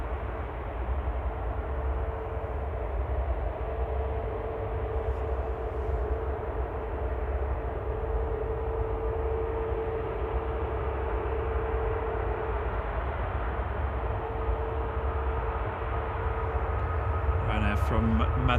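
A Ryanair airliner departing Manchester Airport, bound for Alicante, gives a steady, loud engine roar with a sustained whine that holds evenly throughout, with no voices over it.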